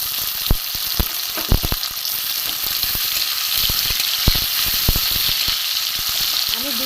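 Chopped onion and tomato hit hot oil in a pan for a tilapia fish curry, giving a steady sizzle and frying hiss with sharp clinks of stirring spread through it.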